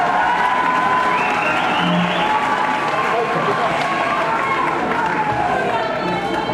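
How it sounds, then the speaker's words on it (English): A festival crowd at a winter music event fills the scene with dense, continuous applause and cheering. The sound holds steady and loud, with speech mixed through the noise. "Round of applause."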